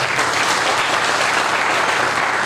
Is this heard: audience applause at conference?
yes